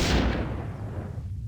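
A single deep, booming explosion from the Star Trek: 25th Anniversary video game bursts loudly and then decays into a rumbling tail over about a second and a half, alone without talk.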